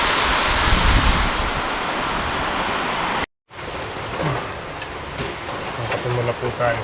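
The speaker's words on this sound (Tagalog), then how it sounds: "Lakas yung hangin." Strong wind gusts outdoors during heavy rain, a rough, blustery roar buffeting the microphone, briefly cutting out, then returning with fluctuating gusts.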